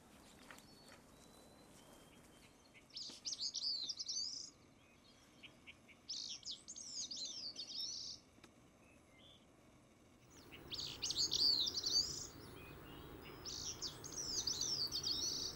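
Small songbirds sing in a dense spruce-fir forest, with short bright phrases repeated every few seconds over a quiet background, clear but moderately distant, and no one talking.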